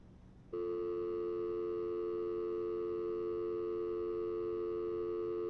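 A telephone dial tone in the video game Heavy Rain switches on abruptly after a brief moment of low hiss and then holds as a steady, unbroken electronic hum.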